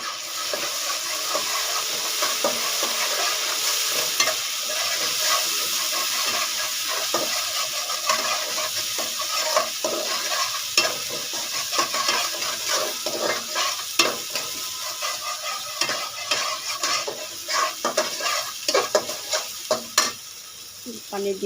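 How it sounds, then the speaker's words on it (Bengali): Onions frying and sizzling in a pan for a lentil dish, stirred continuously with a utensil, a loud, steady hiss close up with scraping strokes, no talking. "এটা পেঁয়াজও ভাজা ভাজা হয়ে গেছে"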